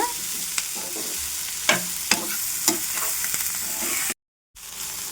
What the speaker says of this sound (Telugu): అటు ఇటు తిప్పకుంటూ కాస్త హైలో పెట్టుకొని ఫ్రై చేసుకోవాలన్నమాట